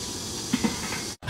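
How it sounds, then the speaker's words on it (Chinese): Halved eggplant steams in a pot, giving a steady, close hiss of steam that runs almost unbroken and cuts out for a moment just before the end. "上锅蒸熟"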